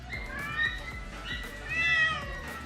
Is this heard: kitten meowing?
yes